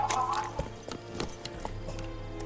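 Roach the horse in The Witcher 3, hooves clip-clopping in a steady galloping rhythm close by, over low ambient game background.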